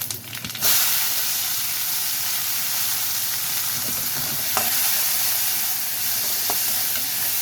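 Crushed garlic cloves, white sesame seeds and a large onion sizzle steadily as they sauté in a hot pan, a continuous close hiss with faint stirring clicks, after a brief louder start.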